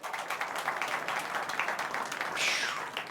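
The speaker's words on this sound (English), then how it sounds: "Let's give Tyler a round of applause, if you would" A live studio audience gives a guest a round of applause at a livestream show's close, steady clapping lasting about three seconds at moderate loudness with a few whistle-like tones near the end.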